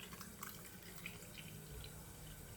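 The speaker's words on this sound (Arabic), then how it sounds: "غادي نزيد عليها الماء، غنزيد عليه الماء" Tap water runs steadily into a pot of lemons being preserved with salt, a continuous splashing flow with a few drips on top, fairly close and with no talk.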